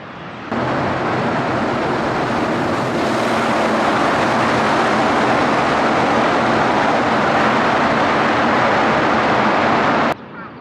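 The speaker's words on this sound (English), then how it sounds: "the Shinkansen right there. That's the bullet train." A loud, steady roar of a Shinkansen bullet train in Japan rushes by for about ten seconds, starting and stopping abruptly, with no voices.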